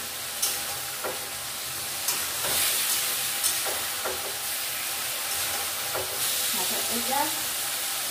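Small chuno fish fry in a pan with a loud, steady sizzling hiss and occasional stirring scrapes and clinks, close up, with no one talking.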